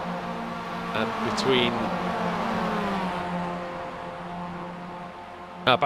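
Mazda MX-5 race cars at Road America, steady engine drone with harmonic whine held throughout, a brief rise near the start and a sharp burst at the end, under commentary talk.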